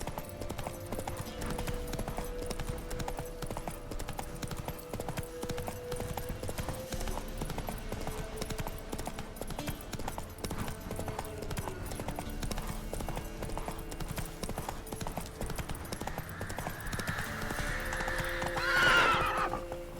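Horse hooves clip-clop steadily at a riding pace in The Witcher 3, with a whinny near the end, over a bed of in-game ambience and music.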